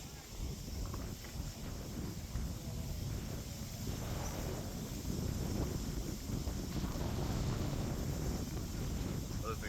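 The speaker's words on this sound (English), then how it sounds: "it's pretty windy today" Wind buffets a microphone outdoors on the Antietam battlefield in a steady low rumble that grows slightly stronger midway, with faint voices underneath.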